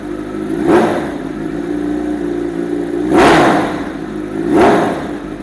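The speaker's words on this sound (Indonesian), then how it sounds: "Gue akan buka gasnya ke 1/4." A Kawasaki Z900 motorcycle, idling close by, is blipped at quarter throttle three times, each short rev swelling and falling back before the next, with no talking.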